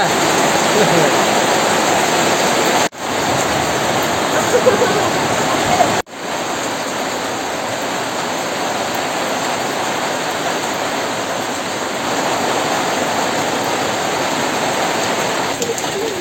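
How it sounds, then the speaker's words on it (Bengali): Heavy rain pours down in a village during the year's first rainstorm, a loud, dense and unbroken rushing hiss that cuts out briefly twice before carrying on steadily. "এই যে বৃষ্টি শুরু হয়ে গেছে"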